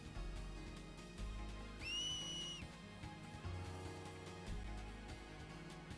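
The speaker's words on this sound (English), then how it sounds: "What's that? It's a whistle, Yuna." Finger whistle in Final Fantasy X, one sharp, bright whistle of about a second that rises and then holds, heard over steady in-game music and ambience.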